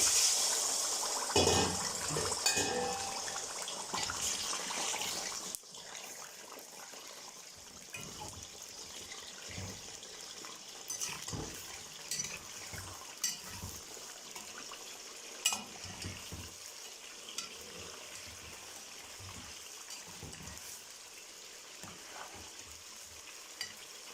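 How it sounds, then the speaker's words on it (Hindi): About a kilogram of chicken fries in half a litre of cooking oil in a karahi, a soft bubbling sizzle with occasional clinks and stirring knocks, fairly quiet and steady with no talking. "चिकन को 10 से 15 मिनट के लिए हम जो है इसमें फ्राई करेंगे"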